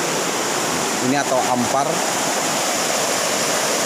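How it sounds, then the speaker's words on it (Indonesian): River water rushes steadily over rocks in a Kalimantan forest, a dense, continuous hiss that fills the whole clip, with someone speaking briefly over it. "Pasti akan melewati juga Sungai Batang ini."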